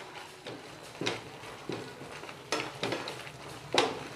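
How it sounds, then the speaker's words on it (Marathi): Halwa being stirred in a pan over a medium gas flame, a spoon scraping and clinking against the metal in irregular strokes, with a soft sizzle underneath, close and moderately loud, no voices. "असंच मध्ये मध्ये हलवत राहा."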